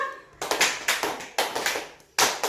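A run of about six hand claps at a steady classroom pace, close and crisp, each a bright slap followed by a brief fade, with no voice over them.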